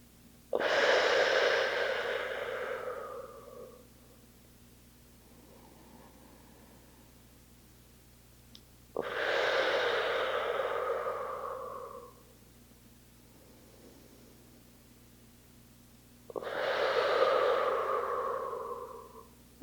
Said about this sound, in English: Stay here for 3 deep breaths.